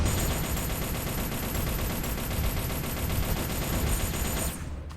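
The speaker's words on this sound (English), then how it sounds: "I can just launch tons of missiles at them" Missiles and missile pods fire in the mech game M.A.S.S Builder, a dense, loud continuous barrage of rapid blasts and rumbling that stays strong for several seconds, then thins out briefly at the end.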